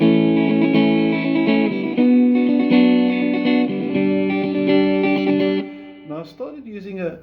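An easy open four-chord strum of a song picked with a plectrum on guitar, bright, rhythmic chords ringing close and loud for about six seconds, then a brief trailing sound at the end.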